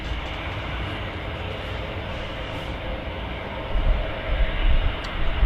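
A jet aircraft rolls at Manchester Airport, its broad, steady roar filling the whole stretch and swelling slightly louder toward the end.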